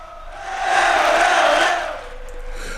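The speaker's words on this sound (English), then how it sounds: "I thought I'd bring us in with a footy crowd" A large football stadium crowd roars and chants together, the sustained noise swelling loudly in the middle before settling back to a steady distant din.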